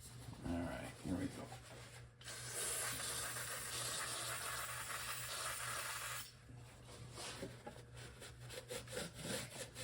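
Brake cleaner hissing in a long steady spray onto the gunked gasket surface of an engine intake area on a 1963 Ford Falcon Sprint, one sustained burst then a shorter one, close and fairly loud.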